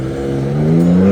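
A 405-horsepower 2024 Ford Ranger Raptor pickup's engine revs up steadily, its deep harmonic note climbing in pitch and loudness over a short, close burst with no voices.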